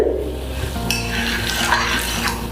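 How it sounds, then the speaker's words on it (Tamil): Steady bubbling and gentle sizzling of a thick oats mixture with country sugar in a pan, continuous and close, with faint metallic scraping now and then. "இப்பப்பா நல்லா கொதிச்சுக்கிட்டு இருக்கு"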